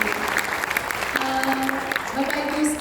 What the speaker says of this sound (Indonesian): Kita berikan tepuk tangan untuk sharing session dari Pak Martin.